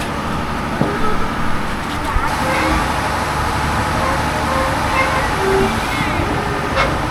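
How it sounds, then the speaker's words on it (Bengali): A passenger commuter train pulls out of Sindhia junction station on a rainy morning, a steady loud rumble and rattle heard from onboard, with people talking over it. "সিন্ধিয়া রেলওয়ে স্টেশন থেকে ছেড়ে দিল ট্রেন"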